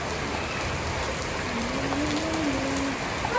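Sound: heavy rain falling

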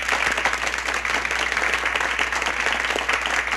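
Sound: audience applause

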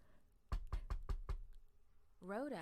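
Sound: knocking on a door

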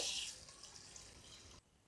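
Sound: pouring water to wash fenugreek seeds

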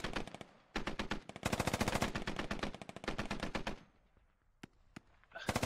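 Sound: gunfire in Squad video game

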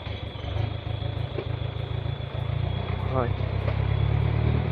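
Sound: Valmet tractor being bump-started by a truck

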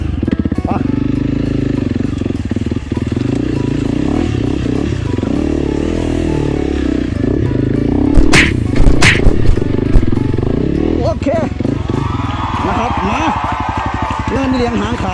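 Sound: motorcycles riding up a steep hill

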